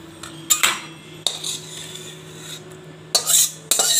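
Cooked boal fish curry is spooned out of a pan, giving a few sharp metal clinks and scrapes of a spoon against the cookware, spaced irregularly over a low steady hum.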